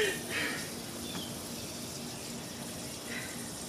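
Water runs steadily from a garden hose during an early-morning outdoor laundry wash. It makes a continuous close rushing and splashing sound that does not stop for the whole moment.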